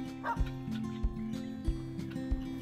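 A Belgian or Doberman dog barks along a bike race route, about four evenly spaced barks at a moderate distance over a steady background hum.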